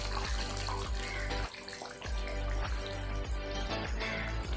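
First-press coconut milk pours into a simmering duck curry, a continuous close liquid splashing and trickling with faint rhythmic stirring knocks underneath.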